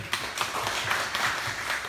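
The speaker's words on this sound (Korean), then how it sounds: "박수 한번 크게 쳐주세요" An audience at a safety education session claps in a short burst of distinct, fairly close handclaps, with no talking over it.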